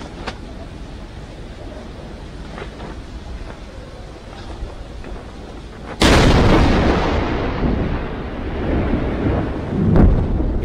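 Missile strikes explode over Israeli cities such as Haifa, Tel Aviv and Jerusalem: after a quiet, low background, one sudden loud blast lands and gives way to a long rolling rumble that swells again near the end.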